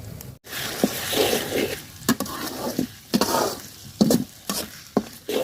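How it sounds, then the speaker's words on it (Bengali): A ground ginger, garlic, cumin and green chili paste fries in oil with fried onions, steady crackling sizzle broken by rhythmic scraping stirs and clinks of a metal spoon against the pot. "মশলাটা খুব সুন্দর করে বাজিয়ে নিব তেলের সাথে"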